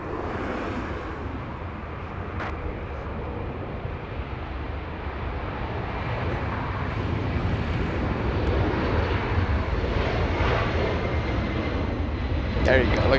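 A Boeing 767 jet takes off from Los Angeles International Airport, its engines a loud, continuous broadband roar that builds steadily over about thirteen seconds, heard from a distance across the airfield.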